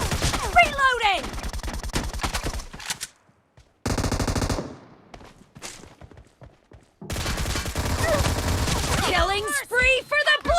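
Suppressed Beryl M762 fire in a PUBG Mobile team deathmatch: dense, punchy automatic bursts with a short break in between, then a longer, sustained spray. Brief in-game voice callouts are mixed in.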